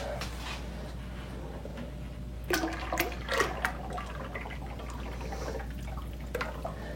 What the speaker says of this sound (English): And now we're going to add in our lye.